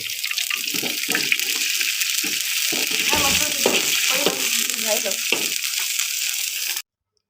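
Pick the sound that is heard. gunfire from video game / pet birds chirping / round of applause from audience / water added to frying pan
water added to frying pan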